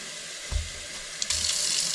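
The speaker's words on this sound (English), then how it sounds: "take a bit of soap and some hot water and just rinse this out" Hot tap water runs and splashes as a water filter housing is rinsed with a little soap in a sink, a steady close rush with a couple of hollow knocks, no talking.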